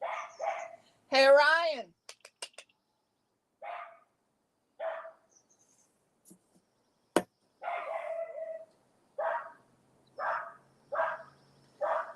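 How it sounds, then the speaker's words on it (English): A dog barks in short, separate bursts indoors, a handful of sharp woofs spread out with pauses, near and moderately loud, mixed with someone speaking briefly. "I don't know what he's barking at now."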